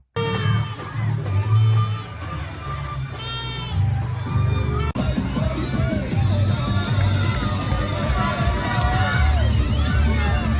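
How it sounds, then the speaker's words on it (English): A crowd cheers at a parade for a county's candidate at a departmental grape-harvest festival, with loud continuous shouting and whistling. A dense, near roar of voices holds throughout. "These are people that are cheering for their candidate from their county."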